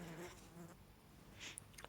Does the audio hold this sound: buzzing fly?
yes